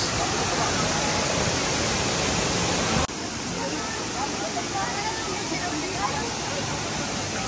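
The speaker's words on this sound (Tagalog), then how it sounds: "pagmasdan ang napakaputing agos ng tubig mula sa falls" Water from Aliw Falls in Luisiana, Laguna pours in a steady, close broadband roar that dips slightly in level partway through and then carries on evenly.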